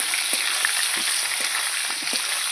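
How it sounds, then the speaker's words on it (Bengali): Potatoes fry in hot oil with cinnamon, cloves and cardamom while being stirred in a pan, a steady close sizzle broken by a few soft scraping stirs, with no talk. "আলুটা ভালো করে নাড়াচাড়া করে নেব।"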